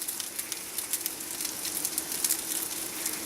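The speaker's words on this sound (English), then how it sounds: "You might hear the sizzling in the background." Sausages frying in a pan for a late lunch, giving a steady hissing, crackling sizzle with faint pops throughout, heard at a moderate distance with no talking.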